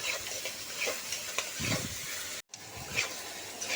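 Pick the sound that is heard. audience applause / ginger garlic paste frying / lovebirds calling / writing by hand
ginger garlic paste frying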